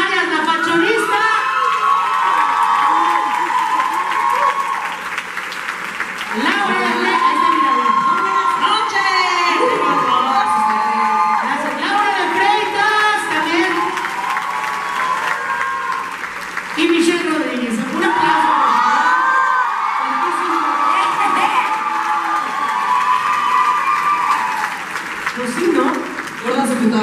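A large crowd roars with sustained cheering, whoops and applause, loud and continuous throughout, with shouting voices rising and falling in waves.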